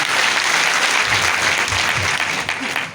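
Audience at a large live RAS event in Gorakhpur breaking into loud, sustained applause, a dense wash of clapping filling the whole moment.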